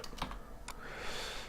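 Quick typing on a computer keyboard, a few close, crisp key clicks followed by a soft hiss, with no voices.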